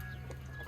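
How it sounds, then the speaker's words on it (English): Silkie roosters in a chicken coop, a faint, brief low clucking and muttering close by against a steady background hum. "we're gonna let all the silkies out, Silky Roosters"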